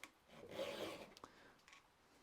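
A hand file rasps across the rakers of a chainsaw chain in one faint, drawn-out stroke. A few small taps and scrapes follow quietly.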